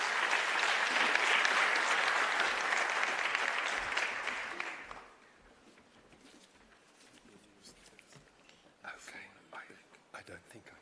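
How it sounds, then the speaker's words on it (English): Loud applause from a convention audience at a youth trade event rises at once and holds for about five seconds, then fades to a quiet room with scattered soft claps and murmurs. "Can you please welcome on stage by giving him a round of applause?"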